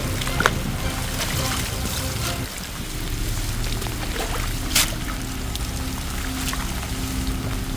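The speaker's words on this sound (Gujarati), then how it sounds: "અત્યારે વરસાદ ચાલુ છે" Steady rain pours down on farm fields without pause, with water trickling and splashing nearby in a continuous hiss.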